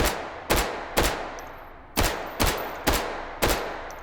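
Gunfire in the video game H3, a series of seven sharp, loud single shots spaced roughly half a second apart, each with a short decaying tail, no talk.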